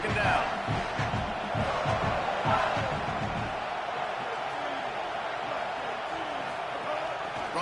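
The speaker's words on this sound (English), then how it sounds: "Man, this crowd really affecting the football game" Stadium crowd at a Texas A&M football game against South Carolina, a broad steady roar of massed voices swelling and holding throughout, loud and continuous, with a broadcast voice faintly mixed in.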